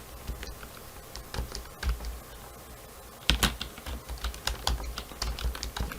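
Computer keyboard typing in short irregular bursts of clicky keystrokes, close and fairly quiet, with a brief pause before a denser flurry of taps.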